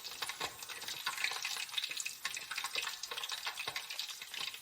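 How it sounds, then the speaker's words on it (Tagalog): Pork belly for lechon kawali fries in hot oil, with dense, continuous crackling and spitting splatters close up, busy and fairly loud throughout with no talk. "You don't need to run away or cover the cookware for the splattering oil."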